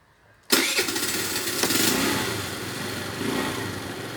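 A Falcon Nitro 50 engine, just refilled with fresh oil, cranks and catches abruptly after a brief quiet moment, then settles into a steady, close, buzzing idle.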